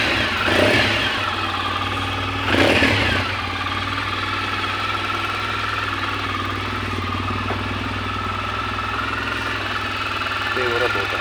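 Suzuki Burgman 650 scooter with a tuned, replaced engine idling on its first start, a steady, loud running drone with a couple of brief throttle swells near the start, and someone talking over it.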